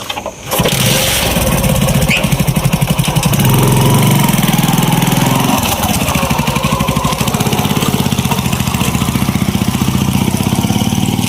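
A small motorcycle engine cranks and fires up, then settles into a loud, steady putter close by for several seconds.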